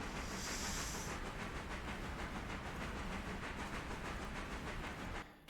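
Locomotive shunting in the train-simulation game Railroader: a steady broadband hiss with faint rhythmic rail clatter running throughout, a brighter hissing burst near the start, cutting off abruptly at the end.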